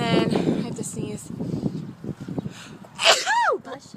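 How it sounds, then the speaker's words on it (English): Someone talks briefly, then lets out a single sharp, close sneeze near the end. "and then I have to sneeze"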